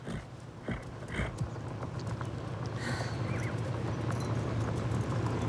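Horse hooves clip-clopping at an even walking pace, moderately near, over a low steady background with no talking.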